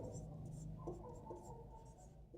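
Pen or chalk scratching out a math solution in a quiet room, faint continuous strokes with small pauses, low and close with no talk over it.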